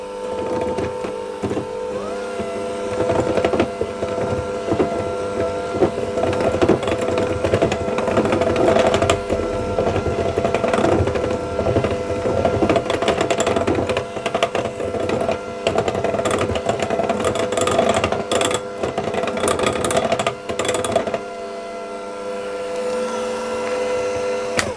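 An electric hand mixer on low speed beats butter and white chocolate for brownie batter, a steady close motor whir with rattling beaters that runs almost unbroken, easing slightly near the end.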